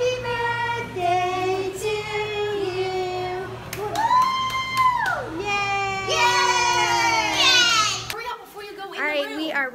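Girls screaming, shouting and cheering at a birthday celebration, loud overlapping high-pitched voices with squeals and brief handclaps, sustained throughout with excited chatter.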